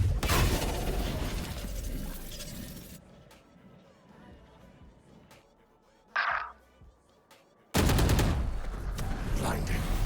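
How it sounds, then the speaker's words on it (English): A flashbang grenade goes off during a competitive BBS2 playoff quarterfinal match, a sharp burst followed by a brief high hiss, set among loud gunfire and game noise, with commentators talking throughout. "Flashbang."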